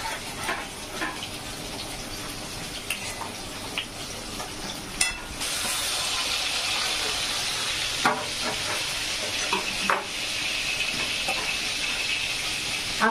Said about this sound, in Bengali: এবার যতক্ষণ না তেল বেরিয়ে আসছে ততক্ষণ আমি নাড়তে থাকবো